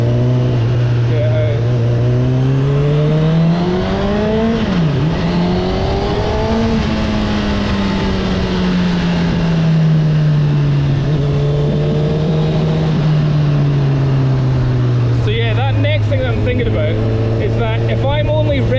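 A Honda CB1000R motorcycle engine drones loudly and steadily, pitch rising and falling as it revs toward 8,000 rpm, with a higher mechanical rattle near the end.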